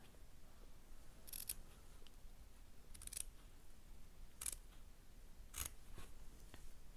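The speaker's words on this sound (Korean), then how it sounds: "가위집을 좀 주셔야 합니다" Scissors snip notches into the curved seam allowance of furry fabric for a doll's teddy bear helmet, four short crisp cuts spaced about a second apart, quiet and close with no talk.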